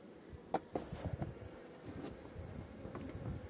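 Honeybees buzz at an open hive during a varroa mite check, a low, steady, fairly quiet drone with a few sharper passing buzzes of single bees.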